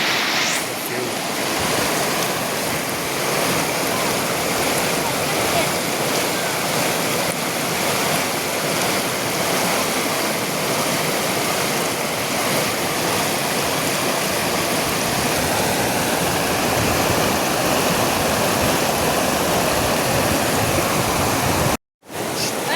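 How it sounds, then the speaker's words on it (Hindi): The Reshi river near Sikkim rushes past in a steady, loud, broadband roar of flowing water, close and unbroken throughout, cutting out briefly near the end. "ये रेशी नदी है"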